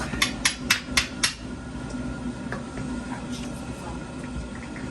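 Five sharp metallic hammer blows in quick succession on brake parts of a 2015 Ford Fusion, then a steady low hum and faint clatter of work continuing.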